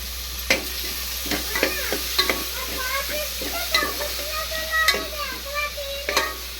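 Tomatoes fry in oil in a pan, a steady sizzle broken by a series of distinct scraping, clinking stirs from a utensil, close and moderately quiet.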